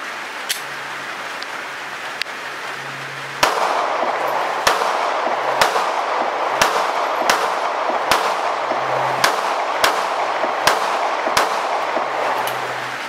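A Sig Sauer P365 pistol firing 147 grain rounds outdoors, about ten sharp, evenly spaced shots in a steady rhythm over a constant background hiss.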